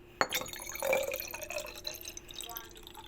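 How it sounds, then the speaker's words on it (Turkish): Water poured from a big jug into a lime drink splashes and trickles faintly and up close, starting with a sharp knock and settling into a gentle, uneven gurgle. "Şimdi suyumuzdan koyuyoruz. Koca bidonla koyuyoruz"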